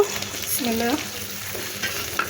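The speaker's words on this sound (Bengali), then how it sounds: "পেঁয়াজটা হালকা ভাজা হয়ে গেছে, এখানে আমি এখন আগে চিংড়ি মাছটা দিয়ে দেবো" Prawns going into lightly fried onions in a pan make a continuous close sizzle, with scraping stirs of a spoon against the pan running through it.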